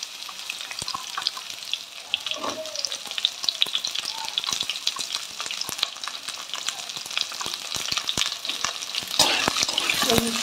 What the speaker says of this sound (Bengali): এগুলো একটু লাল লাল করে ভালো করে ভেজে নেব